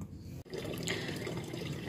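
Tap water runs steadily into a sink while chicken feet are washed clean, a continuous close splashing rush with one brief break near the start and no talking.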